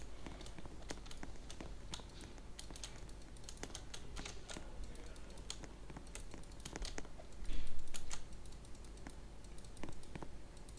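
Rapid, dense clicking of a computer mouse and keys while playing the Roblox game Blox Hunt, a steady stream of close, crisp taps with a brief louder rustle partway through and no talking.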